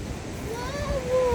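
Water rushing down a mountain waterfall, a steady broadband roar mixed with wind noise, with a voice-like tone rising faintly over it near the end.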